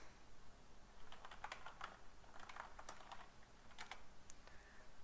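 A computer keyboard on a Manjaro Linux machine as commands are typed in, with faint, irregular clusters of key clicks and short pauses between the bursts.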